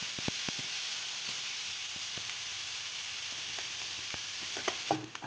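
Onions and curry leaves frying in hot oil in a pan, a steady close sizzle with a few soft pops and a brief stir near the end.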